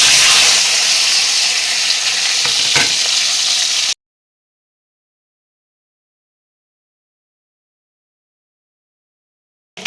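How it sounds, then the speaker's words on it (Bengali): Steamed egg pieces frying in hot oil give a steady, loud, close sizzle for about four seconds, then cut to silence. "গরম হয়ে গেছে, এখন ডিমগুলো ভেজে নিব।"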